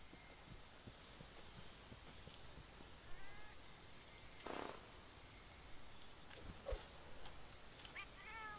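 A small cat creature companion in Monster Hunter World gives several soft meows, spaced apart over quiet game ambience with low thumps.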